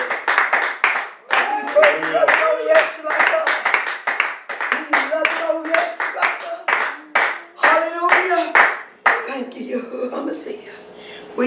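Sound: congregation clapping hands in praise

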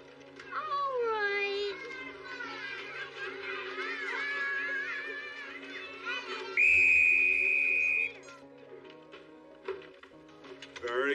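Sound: whistle blows in kindergarten game

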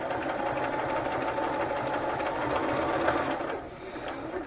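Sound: sewing machine stitching a zigzag on paper envelope

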